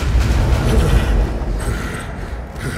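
Bomb explosions in the video game Borderlands 2 rumble as a dense, continuous low boom, loud and close throughout with no voices over it.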